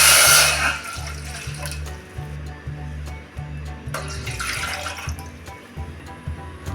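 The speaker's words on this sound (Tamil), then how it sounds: "ஒரு பாத்திரம் போட்டு 2 ரோட்டா தண்ணி ஊற்றி" Water pours steadily into a cooking pot on a stove, splashing under a low rhythmic electrical hum, the flow louder at first and then settling.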